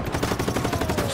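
Rapid automatic gunfire in the video game Just Cause 3 near a gas station, a dense rattle of shots in quick even bursts, loud and close.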